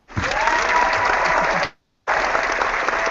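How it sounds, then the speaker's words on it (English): A canned crowd applause sound effect plays in two bursts separated by a short silence, dense and steady, with thin, tinny audio quality. "Round of applause for the Dallas Cowboys right there with my sound effects."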